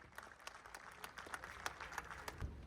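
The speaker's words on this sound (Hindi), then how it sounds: "एक बार जोरदार तालियां हो जाए" Applause at a real estate customer event sounds faint and distant, with scattered, distinct hand claps over a soft background and no talking.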